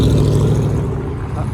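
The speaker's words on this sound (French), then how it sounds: "Ah, Excel il est parti avec sa voiture." A car pulls away from a classic car gathering at Place Vauban, its low engine rumble close and loud at first, then gradually fading.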